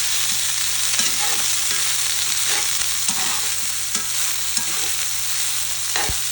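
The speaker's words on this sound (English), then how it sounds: "we're just going to kind of sear all this right here. Get kind of a good cast iron look to it." Venison roast sears in a cast iron pan with a loud, continuous hiss of hot fat and scattered sharp pops and spatters, close and steady throughout with no voices.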